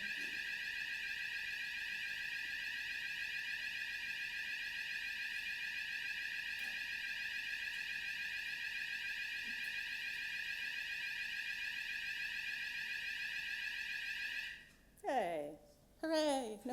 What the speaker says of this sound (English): I was told there was going to be a fire alarm.